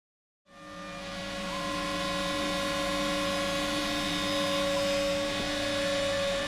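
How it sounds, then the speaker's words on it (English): A CNC router carves timber templates for a timber-framed lean-to, starting after a brief silence and then holding a loud, steady machine whine with sustained tonal hums throughout, no talking. "Each template is a few minutes of noise and sawdust as the shapes are carved out."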